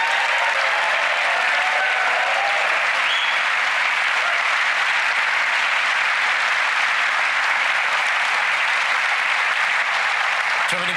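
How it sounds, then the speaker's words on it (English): Steady, dense applause from a large studio audience at a televised magic competition show, loud and sustained for the full duration with no talk over it. "Please give Stacey a huge round of applause as she joins you on stage."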